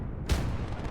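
Heavy Nebelwerfer rocket artillery fires in a WWII battle in Gates of Hell: Ostfront, a single loud blast about a quarter second in, then a dense rumbling roar that lingers for the rest of the moment.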